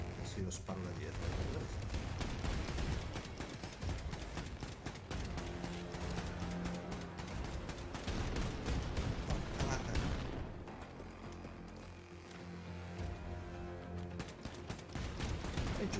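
Rapid bursts of gunfire in Wolfenstein II: The New Colossus crackle over a dense, busy soundtrack, with repeated volleys and a brief lull near the end.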